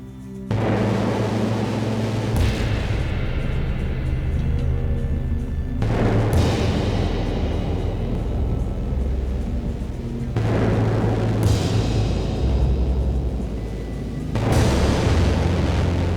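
Heavy booming blasts in the video game Children of the Sun, four large explosive bursts each trailing off into a long rumbling decay, loud and continuous throughout.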